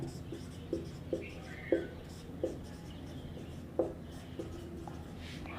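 A pen writes a note on a board or paper in a Hindi chemistry lesson on IUPAC naming of amines, a series of soft scratchy strokes and taps coming at irregular intervals, close and quiet.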